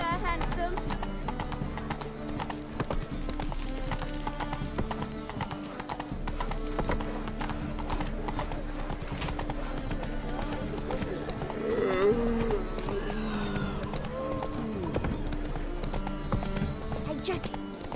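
Roach the horse trots in The Witcher 3, hooves clip-clopping in a steady rhythm beneath game music, with an occasional whinny and a voice over the top.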